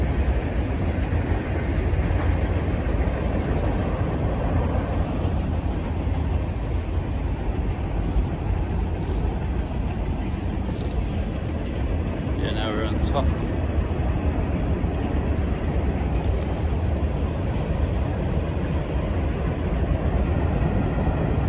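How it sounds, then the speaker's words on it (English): A long train rumbles past steadily throughout in Weatherford, Texas, a continuous heavy roar with faint rail clatter, while a person speaks briefly over it. "Train's still going."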